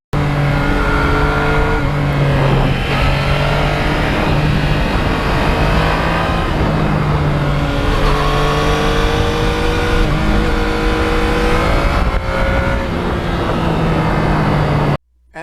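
Yamaha MT-09 motorcycle ridden hard on a slippery road with traction control on, its engine droning steadily and loudly with rising and falling rev tones throughout, under strong rushing wind noise.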